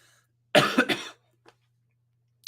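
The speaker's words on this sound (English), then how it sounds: "I am coughing a little bit. I got Weet-Bix stuck in my throat." A person coughing with a throat irritated by Weet-Bix cereal stuck in it: a close, sharp burst of two or three quick coughs, then a faint throat sound and a brief noise at the end in a quiet room.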